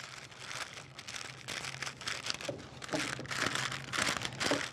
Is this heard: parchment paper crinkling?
yes